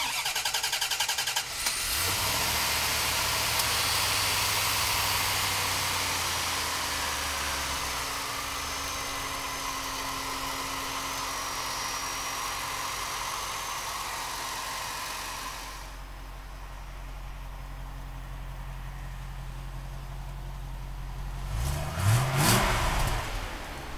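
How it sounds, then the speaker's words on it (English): A 1991 Chevrolet Corvette ZR1 cranks and catches loudly, then holds a steady rumbling idle for a long stretch before a couple of sharp revs blip near the end, with no talking. "let's fire the ZR1 up"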